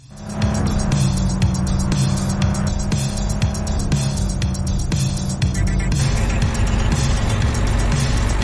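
Cars drive and race in a mobile open-world video game, engines roaring loudly and continuously with tire squeals and revving, a dense, steady game mix throughout.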